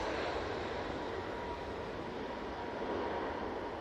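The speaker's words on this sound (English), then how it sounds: "Ryanair 737 MAX 8 on the rolls." A Ryanair Boeing 737 MAX 8 on its takeoff roll at Manchester Airport, a steady broad engine roar that holds loud and even throughout with no voices over it.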